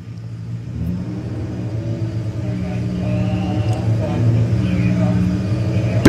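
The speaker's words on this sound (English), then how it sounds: "Jacob really pushing the performance of the Jetta now. He's approaching 150 miles an hour as well." VW Jetta front-wheel-drive drag car accelerating toward 150 mph at a Bug Jam qualifier, a steady droning engine rumble that builds gradually over six seconds, heard from a distance with a sharp blip at the very end.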